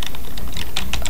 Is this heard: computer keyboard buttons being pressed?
yes